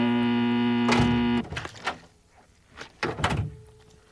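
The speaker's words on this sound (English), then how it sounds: "Push the door when you hear the buzz." A door entry buzzer drones steadily and loudly for about a second and a half, then cuts off, followed by quieter clunks and shuffling sounds of the door being pushed open.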